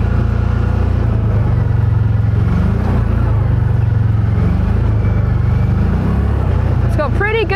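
A car driven very slowly around a track, its engine a steady, loud low drone throughout, with rumbling road and suspension noise and a brief higher whine near the end.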